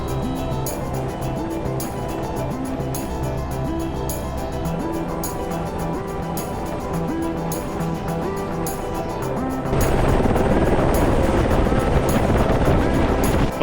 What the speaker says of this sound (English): Fun helo ride.